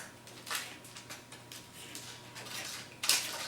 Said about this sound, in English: Using a knife, we're going to cut the edges of the pastry.